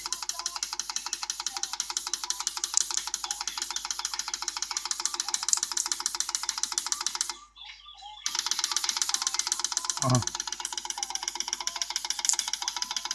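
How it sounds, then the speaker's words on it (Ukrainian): Fuel injectors clicking rapidly in a cleaning rig give a fast, even mechanical chatter that stops briefly and then resumes, with a short sharp knock after the restart. "От так воно працює. От як форсунки очищаються."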